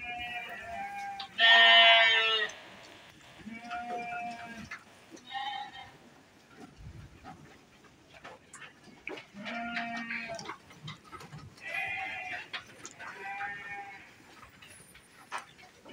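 Goats and sheep on a small farm bleat again and again in short, wavering calls, some close and loud, others softer, with pauses between them and a quiet murmur of voices in places.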